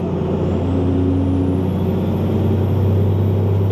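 A tuned vehicle with a 150HP engine tune pulls under boost, a loud, steady engine drone with a low tone that rises slightly, heard up close and continuous with no talking.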